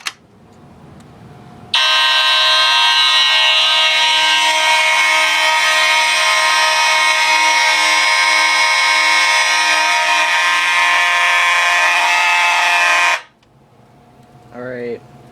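A fire alarm system sounds during a test of a smoke detector zone, a loud steady electronic tone running unbroken for about eleven seconds, then cutting off abruptly.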